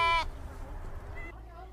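A white sheep bleats once, a short wavering call at the start, followed by quieter farm background.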